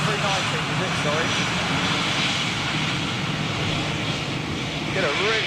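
An Emirates Airbus A380 jet flies inbound overhead, its engines giving a loud, continuous broadband roar that holds steady from start to finish; no talk is heard over it.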